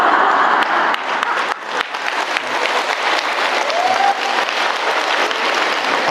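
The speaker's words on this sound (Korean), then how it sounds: "박수 와 치시는데" A church congregation claps loudly and steadily, a dense wash of applause filling the room without pause, close and sustained with a few sharper individual claps and faint voices underneath.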